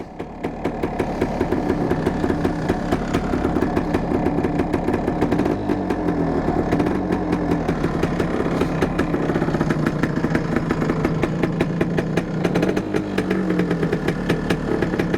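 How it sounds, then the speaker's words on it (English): A 1974 Yamaha DT250 two-stroke motorcycle engine idles close by, a loud, steady, rapid popping burble that holds even throughout with slight rises in pace. "You don't hear these sounds out on the road very often anymore, these two-stroke sounds."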